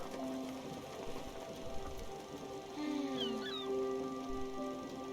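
In the video game Spiritfarer, a cat meows as it is hugged, giving a couple of clear rising and falling mews over soft background game music.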